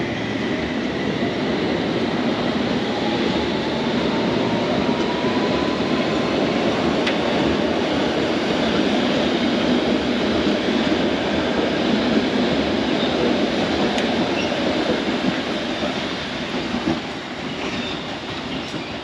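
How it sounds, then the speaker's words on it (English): London Underground tube train leaving a Buckinghamshire station for Aldgate, a loud continuous rumble with rail clatter and faint wheel squeal, steady throughout and easing slightly at the very end. "this train is now leaving for its journey to Aldgate"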